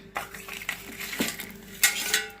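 Rice flour batter with jaggery being stirred in a pot, with scattered scraping and clinking of a spoon against metal, soft and close, a few distinct knocks among quieter stirring.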